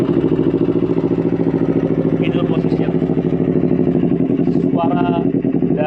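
A used Yamaha R25 motorcycle engine idles close by, a loud, steady, rapid throbbing with even rhythm, while someone talks over it.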